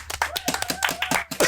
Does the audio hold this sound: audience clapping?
yes